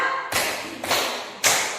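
Hand claps in a classroom concentration clapping game, three sharp claps with a slow, steady rhythm, each ringing briefly in the room, close and fairly loud with no talk.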